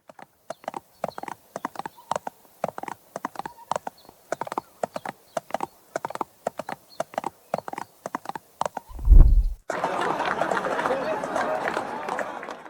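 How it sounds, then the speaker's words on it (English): Horse hooves clip-clop steadily on a hard street surface, a brisk regular rhythm, followed by a brief thump and then a wash of crowd noise. "Pack horses moved quietly through narrow alleys, carrying cloth, spices and letters where wagons could not pass"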